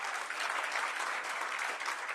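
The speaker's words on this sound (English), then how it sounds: "Mr. Mpilo needs another round of applause." An audience at a South African corporate event applauds with steady, dense clapping that holds at an even level throughout.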